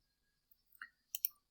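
A few faint calculator key taps, three or four soft clicks close together over near silence.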